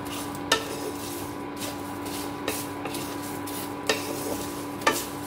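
Bay leaves, dried red chillies and whole black peppercorns frying in a pan, a soft steady sizzle with a few distinct clinks and scrapes of a spoon against the metal at intervals.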